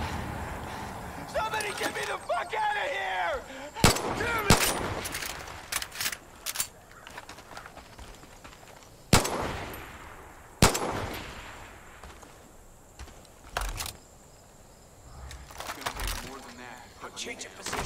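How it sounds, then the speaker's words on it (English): Gunfire in Far Cry 5, several sharp loud shots and short bursts scattered across the stretch, with someone talking and game sounds between them. "Bullet fire!"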